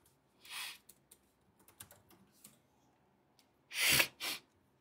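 Two sharp, forceful sniffs sound close by, one near the start and a louder one near the end, with faint clicks and tapping in between.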